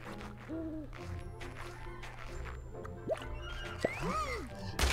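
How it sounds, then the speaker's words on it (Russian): Several owl hoots in the video game Zombie Catchers, rising and falling calls repeated at irregular intervals over a steady low ambient hum, moderately close. "Филин, раздражаешь меня."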